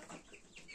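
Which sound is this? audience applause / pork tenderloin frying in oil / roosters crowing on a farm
roosters crowing on a farm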